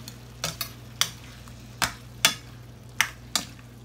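Tomato being stirred into a pan of frying beef stir-fry with green onion: a steady soft sizzle with a hum underneath, broken by about eight sharp scraping stirs of a utensil against the pan, close and fairly clear.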